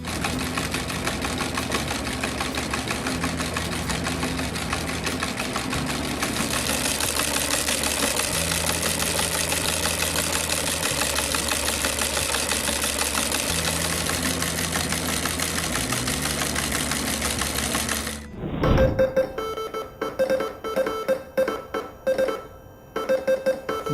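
A Spanish-style telegraph sounder fitted with a loudspeaker instead of a needle gives out a steady, musical buzzing tone whose pitch steps between levels for most of the stretch, then breaks into rougher, intermittent clicking near the end.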